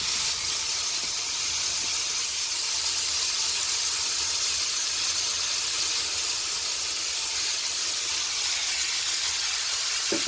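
Soya chunks in an oiled pot on the fire, giving a steady, loud hissing sizzle that holds constant throughout with no talk.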